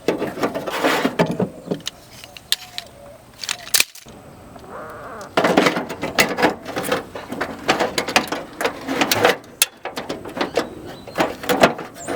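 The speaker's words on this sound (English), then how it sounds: "Now that you've got it unbolted, you just pull the old regulator out." An old window regulator is pulled out of a Porsche door, giving irregular metallic clunks, rattles and scraping bursts at close range with brief pauses, and no talking.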